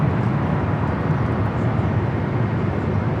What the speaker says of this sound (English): We do have a United Dreamliner rolling down the 25 right.